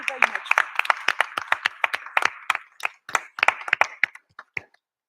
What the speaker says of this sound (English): I'd like to ask all of you to please join me in a round of applause for this very insightful panel